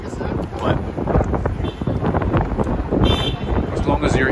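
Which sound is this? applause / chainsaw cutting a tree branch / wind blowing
wind blowing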